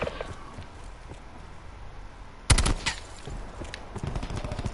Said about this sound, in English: Firing sensor dart